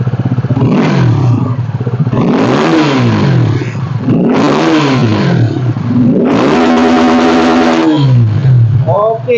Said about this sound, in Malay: itulah bunyi daripada double barrel dekat motor ni